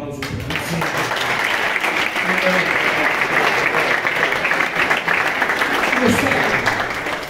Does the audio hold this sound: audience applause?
yes